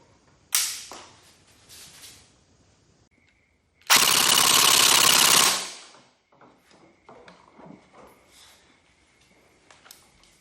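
An AKS-74U toy gun fires full auto in one rapid, loud burst lasting under two seconds. A few quieter clicks and handling sounds come before and after it.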